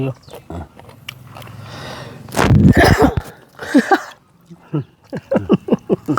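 A single sharp, loud sneeze bursts out among casual conversation, preceded by faint sniffing, with people talking before and after it.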